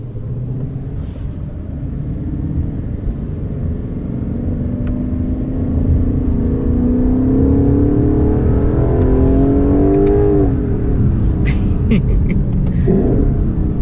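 Naturally aspirated Lexus LC500 engine revving hard toward high RPM, a loud, rising rumble that climbs steadily in pitch while driving, close and continuous.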